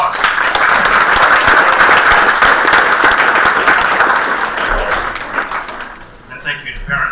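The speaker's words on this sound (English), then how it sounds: "Let's give them another round of applause." An audience at a school board meeting gives loud, sustained applause that fades out after about six seconds, followed by faint murmuring.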